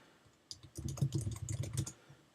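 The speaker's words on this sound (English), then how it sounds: "We'll just type in another test message." Fingers typing a message on a computer keyboard, a steady burst of close, quick key clicks lasting under two seconds, with quiet room tone before and after and no talking.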